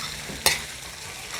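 Boiled chicken pieces dropped into a hot pan for chicken curry: one sharp splash and sizzle burst, close and brief, trailing into a soft steady frying hiss, no voices.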